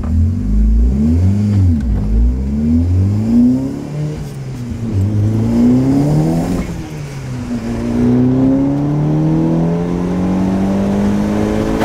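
A 370 hp tuned VW Golf 5 pulls away from a standstill and accelerates hard, its loud engine note rising through several gear changes, each shift dropping the revs before they climb again, with no talking.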